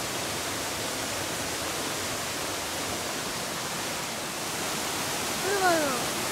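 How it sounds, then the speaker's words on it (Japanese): The Yagen waterfall, a small mountain cascade, gives a steady even hiss of falling water throughout, with a short voice-like tonal sound near the end. "小滝の手前にある中間の滝、薬研の滝を少し見てから行くのだ。"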